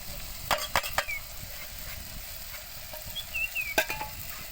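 Spice masala sizzling in oil for a spicy black curry, a constant crackling fry marked by sharp spoon taps on the pan early and near the end, no talking.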